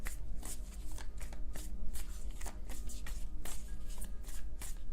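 Tarot cards shuffled by hand in a steady stream of quick riffling, papery slaps, close and fairly loud, with no talking.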